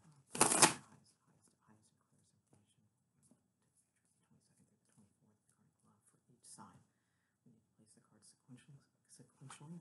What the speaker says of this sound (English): Let me just shuffle a little bit here.